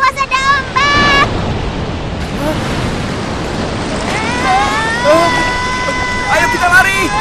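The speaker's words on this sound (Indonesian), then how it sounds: "Ayah, awas ada ombak." Animated ocean waves crash in a continuous loud rush of surf and wind, with cartoon voices calling out over the noise.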